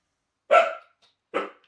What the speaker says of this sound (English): Alma, now what are you barking at the neighbours for?